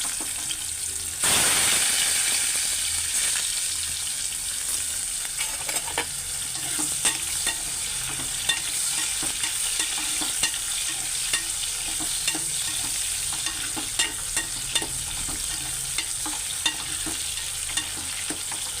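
Boiled bitter gourd pieces, cooked earlier with salt and turmeric, hit hot oil in a pot with a sudden burst of sizzling. A steady, loud crackling fry follows, with faint stirring scrapes and no talk.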